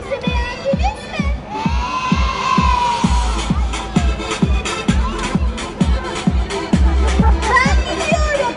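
A crowd of children cheers and claps in rhythmic unison at the end of a live children's show, loud and close, with shouting voices over the applause.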